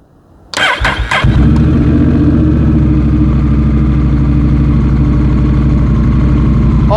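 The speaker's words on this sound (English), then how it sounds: "Let's start the engine." A motorcycle engine cranks briefly, catches and settles into a loud, steady idle that runs on uninterrupted close by.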